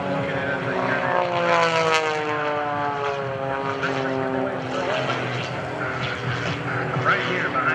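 An aerobatic propeller plane performs at a Blue Angels homecoming airshow, its engine rising and falling in pitch with strong Doppler sweeps as it maneuvers, loud and fairly close, with an announcer talking over it.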